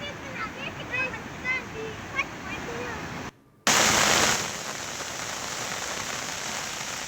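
Heavy rain causing flooding pours down in a dense, steady hiss over a surface. A brief gap splits the clip, and the downpour returns louder afterwards, while a voice talks faintly under the rain in the first part.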